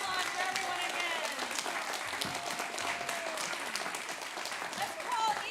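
Audience applause follows staged readings at a summer playwriting workshop, a steady wash of clapping throughout with voices and cheers mixed in underneath.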